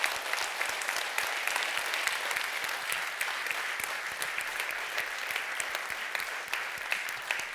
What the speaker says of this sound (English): I think we should give them the final applause.